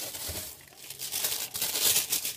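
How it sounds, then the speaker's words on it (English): Tissue paper is crinkled and rustled while a loot crate is unboxed: close, dry, papery crackling in uneven bursts that swell louder toward the end, with no voices. "Tissue paper, or something of the sort. That kind of paper."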